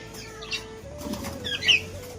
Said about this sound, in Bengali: এখন দেখো আমাদের পায়রাগুলো মোটামুটি চলে যাবে খাবারটা খেতে